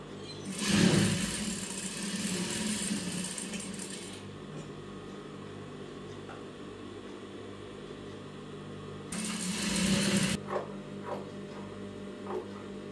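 A sewing machine stitches silk lining fabric for a lace garment in two loud, steady whirring runs separated by a quieter pause, running close by with no talking.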